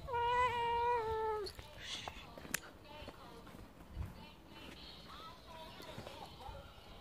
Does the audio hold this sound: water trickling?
no